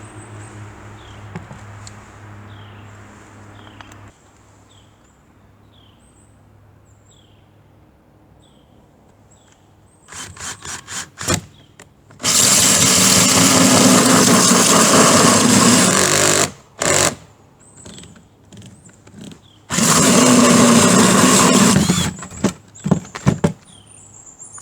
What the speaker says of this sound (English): We start by drilling forward just to get the pilot hole started,